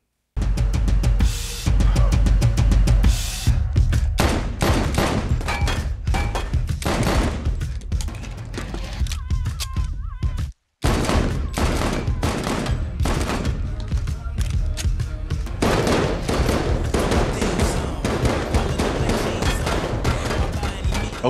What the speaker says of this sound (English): shooting without eye or ear protection?